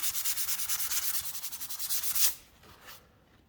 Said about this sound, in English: give it a light sanding